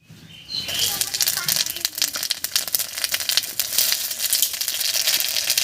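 Whole cumin and radhuni seeds hit the hot oil left over from frying rohu fish and crackle at once into a bright, close, continuous sizzle.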